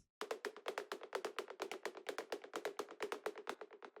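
Quiet synthesized percussion of white noise shaped by a bandpass filter ticks in a rapid, even run of sixteenth-note hits, each short and breathy, playing alone for a few seconds.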